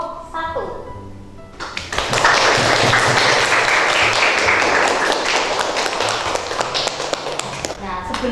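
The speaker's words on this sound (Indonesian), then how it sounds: "Beri aplaus untuk kelompok 1." A classroom group claps for presentation group 1, steady dense applause lasting about six seconds after a brief spoken line, then tapering as a voice resumes.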